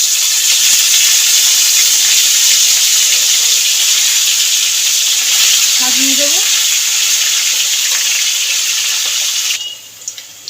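Loud, continuous hissing sizzle of salt-and-turmeric-coated fish frying in hot oil, with a brief spoken word partway through.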